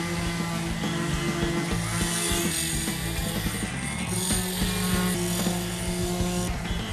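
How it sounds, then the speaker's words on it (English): A power sander shapes a wooden chess piece in a workshop, giving a steady, loud, continuous whine with harmonic tones that holds for the whole stretch without any voices. "I set up the sander for you."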